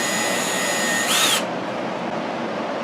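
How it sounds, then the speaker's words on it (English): A brief high-pitched whine comes from a power drill with a 3/32 bit boring eyes into a small turned wooden mouse. It lasts about a third of a second over faint shop background noise. "And I'm just going to drill these eyes out."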